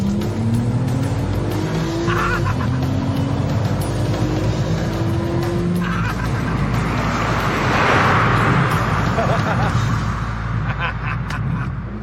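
A Porsche 911 driven hard on an open road, its engine a loud, steady roar that swells and climbs through gears, with tire noise running underneath for the whole stretch and no talking.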